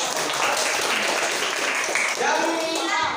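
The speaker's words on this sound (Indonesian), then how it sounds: "Tepuk tangan untuk" A group of students in a lesson claps together in a dense, steady burst of applause lasting a few seconds, with a voice starting to speak as it ends.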